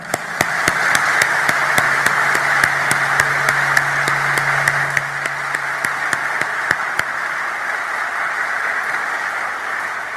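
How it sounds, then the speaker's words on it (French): Audience applause at a French-language address to medical and science students: a broad sustained wash of clapping with sharp louder claps punctuating it for about seven seconds, then tapering into a quieter lingering patter. "par un applaudissement qui jaillit du cœur"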